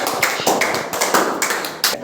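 A group of children clap their hands together in a rapid, uneven burst of sharp claps, close and loud, lasting about two seconds.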